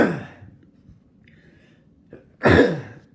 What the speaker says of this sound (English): Never know when the sneeze is going to come.